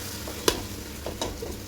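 Ground masala frying in tempering oil for a home-cooked mutton biryani: a soft, steady sizzle with a sharp stirring clink near the start and a few light scrapes later, fairly quiet, no voices.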